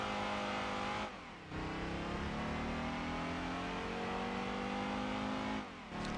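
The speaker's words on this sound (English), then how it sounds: "start acceleration and braking in the Fiat Coupe" A Fiat Coupe's five-cylinder engine revs up hard in Gran Turismo 2, rising loud and near through the gears with brief dips at each shift, no speech.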